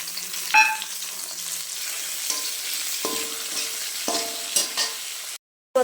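Potatoes sizzle in hot oil in a pan after onion and green chili paste is added, a steady frying hiss broken by several sharp scrapes and clinks of a stirring spoon, close by with no talking.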